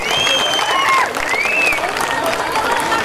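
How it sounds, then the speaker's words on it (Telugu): A crowd at a Congress party election rally in Gundlapochampally municipality claps together in a dense, steady burst of applause, loud and close, with whistles rising above it and no speech. "ఇప్పుడు మీరు చప్పట్లతో రేవంత్ రెడ్డి గారిని స్వాగతం పలకవలసిందిగా కోరుతున్నా"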